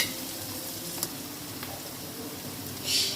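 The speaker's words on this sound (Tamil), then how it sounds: "அது ரெண்டையும் கட் பண்ணி நல்லா பொடியாக அரிஞ்சு அதில் சேர்த்து நல்லா வதக்கிக்கலாம்" Finely chopped shallots and large onion sautéing in a pan for a chicken dish, a steady soft sizzle with a faint clink near the start and a brief brighter hiss at the end, no voices.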